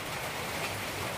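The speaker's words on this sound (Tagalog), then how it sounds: "Lakas pa ng ulan." Steady, dense hiss of heavy rain pouring down, constant and enveloping with no voices.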